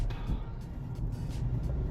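A car rolls up at a truck salvage yard with a low engine rumble and road noise, as soft thumps and faint voices come through.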